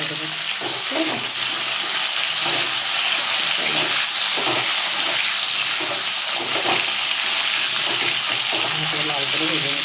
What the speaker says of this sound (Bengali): তার সজনেটা একটু লাল লাল করে ভেজে উঠিয়ে দেবো